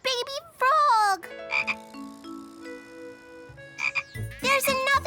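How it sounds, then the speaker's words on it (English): Cartoon baby frogs croak in a playful, bouncy series of loud, close calls, with clear gaps between bursts and no speech over them. "A baby frog!"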